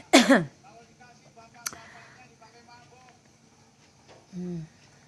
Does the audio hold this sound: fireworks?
no